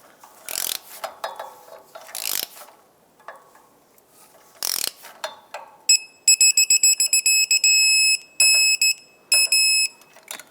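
A torque wrench working on the catalytic converter flange bolts of a 2008-2012 Jeep Liberty 3.7L V6, with a few scraping strokes and then a quick run of sharp ratcheting clicks and bursts, close by and without talk.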